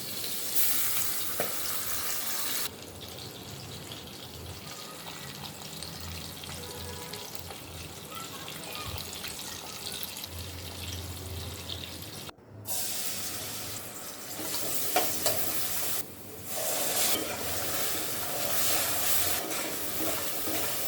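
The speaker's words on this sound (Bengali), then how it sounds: "প্রথমে মাছগুলো ভেজে নিচ্ছি" Fish pieces frying in oil in a pan for a home-cooked curry, a continuous close sizzle and crackle that drops out briefly, then resumes with shifting intensity as the pieces are moved.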